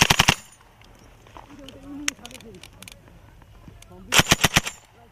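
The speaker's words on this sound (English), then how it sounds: "Okay, keep on firing." Bursts of machine gun fire ring out during a military counter-terror exercise, a rapid rattle of shots at the start and another loud rapid volley near the end, with a man giving orders in between.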